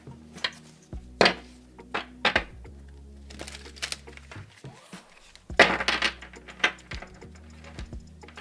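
Thick tarot cards being riffled and shuffled by hand, a run of crisp papery flutters and soft taps that bunch into short bursts with brief pauses between them, close up and with no one talking.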